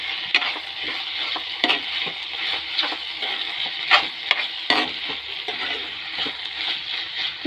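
A spoon stirs a sizzling capsicum curry with turmeric in a pan, giving repeated close scraping strokes over a steady frying hiss, with no talking.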